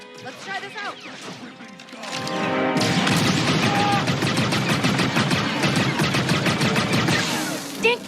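A firefight in the video game Outlaws: after a quieter start, dense, rapid gunfire and crashing impacts erupt and fill the rest of the clip, loud and continuous, while a voice talks over the shooting.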